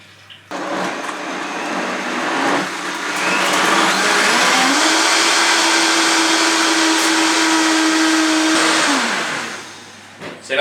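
An electric blender puréeing leek cream soup, starting up with a loud steady whir and rising to a sustained high-pitched roar for several seconds before winding down, close and alone.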